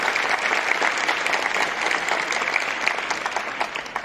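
Audience applause for Andrés at a Disney Destinations presentation during the FIT tourism fair, a sustained, even burst of many hands clapping filling the hall, with no talk over it.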